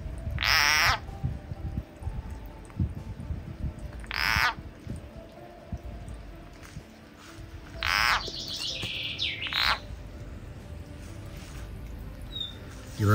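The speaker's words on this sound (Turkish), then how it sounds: "Bakın duyuyorsunuz kurbağayı." Frog calling while held by a snake among rocks outdoors, several short, shrill bursts spaced a few seconds apart, faint against a low rustling background.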